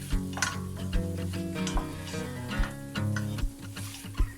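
Meat and melted-down onions sauté in a pan with a busy sizzle, broken by regular clacks and scrapes of stirring. A steady tonal hum runs underneath.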